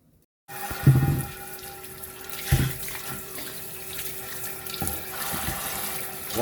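Water runs from a kitchen tap into the sink during breakfast preparation, a steady close splashing stream that starts abruptly after a moment of silence, with a few clunks of dishes being washed.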